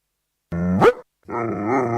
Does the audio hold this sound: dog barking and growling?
yes